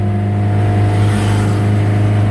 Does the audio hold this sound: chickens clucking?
no